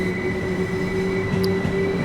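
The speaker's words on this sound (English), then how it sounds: "So that train's departing now" A train pulls away in Train Sim World 2 with a steady mechanical hum and a high, sustained wheel squeal. A faint brief chime sounds partway through, and the rumble stays loud and close throughout.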